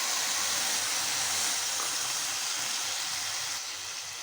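Medium-sized tomatoes sautéing in a hot pan for a tomato side dish make a steady, loud, close sizzling hiss that continues throughout and eases slightly near the end, with no voices.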